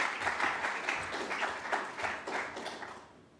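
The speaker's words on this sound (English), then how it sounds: "So give a warm round of applause for Lucio Melito." Audience applause greets a speaker at a conference talk, a warm burst of clapping that gradually fades and thins out toward the end, with no talking over it.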